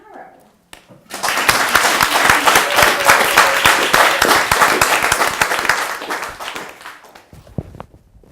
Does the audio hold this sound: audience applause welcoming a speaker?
yes